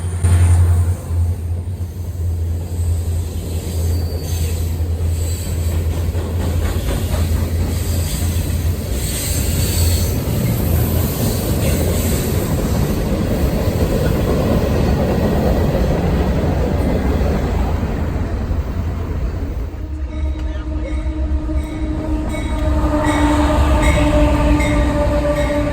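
A short Union Pacific local freight of twelve cars, led by a GP40 diesel locomotive, passes close with a steady low engine drone and continuous rolling wheel noise, then high wheel squeal and clatter as the cars go by.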